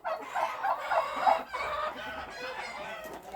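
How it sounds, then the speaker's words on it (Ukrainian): A rooster clucks and calls nearby in a run of throaty, squawking sounds, fairly clear and close, with no talking. "О, півень он."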